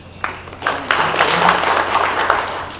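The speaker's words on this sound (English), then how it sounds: "Clap for him" An audience applauds a High Commissioner at a high-level investment forum, a short burst of moderately loud clapping that swells quickly and holds steady before fading slightly.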